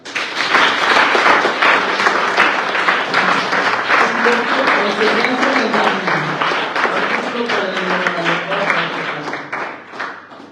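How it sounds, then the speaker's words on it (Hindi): Loud, steady applause from a crowd fills the space without pause, with voices faintly mixed underneath, then tapers off at the end. "वे ताली बजाओ बस"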